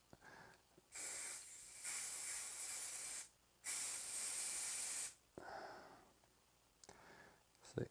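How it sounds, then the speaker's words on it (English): An aerosol spray can hisses in two long, steady bursts and a shorter one over miniatures, loud and close, with clicks and quiet handling between bursts. "The aerosol itself should be enough to kind of revitalize it."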